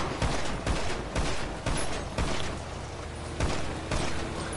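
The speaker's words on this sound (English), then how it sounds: "Oh shit, they shooting fast!" Rapid gunfire in GTA 5 Online, a string of heavy repeated shots over a dense roaring game mix, loud and continuous with no talking.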